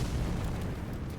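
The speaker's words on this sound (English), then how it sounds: "cast pretty much a bombardment of fire spells over and over again, charging up, causing just nothing but crazy explosions" Dense, continuous rumbling blasts of fire spells from an Elden Ring pyromancy build, a heavy low roar with no breaks, loud and alone.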